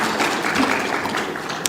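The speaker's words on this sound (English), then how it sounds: "Please, we need to clap for her." An audience at a regional science and technology conference plenary session claps in a steady, dense wash of applause, fairly loud, lasting under two seconds.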